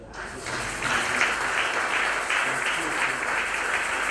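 Audience applauding at a book launch and exhibition opening at the Showbuzz in Kinshasa, a steady, dense round of clapping that swells and holds for several seconds.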